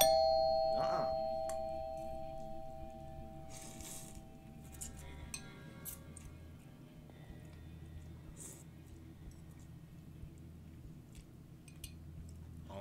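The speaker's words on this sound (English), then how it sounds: "Stop ringing that doorbell, huh?" A doorbell chimes once near the start, a clear ringing tone that fades out over a low background hum, followed by faint mechanical clicks and rustles.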